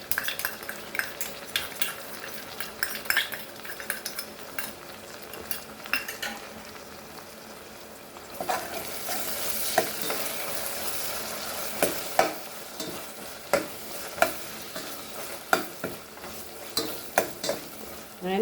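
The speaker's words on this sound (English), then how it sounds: "Till it's fried nicely, you have to fry this. Now we'll add our ginger garlic paste." Ginger garlic paste fries with chicken for a Malvani curry. A spoon scrapes and clinks against the pot in irregular strokes over a sizzle that grows louder and fuller partway through, close up with no talking.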